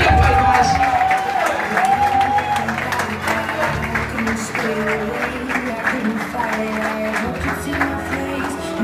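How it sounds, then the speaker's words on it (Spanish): Wedding guests clap and cheer through a loud, continuous stretch of applause at an evening celebration, mixed with music and a voice speaking over it. "¡Que se escuchen las palmas!"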